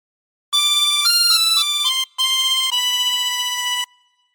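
A chromatic harmonica plays a short phrase of the Star Spangled Banner as a sequence of bright sustained notes, with one brief gap midway, then the final note trails off into silence.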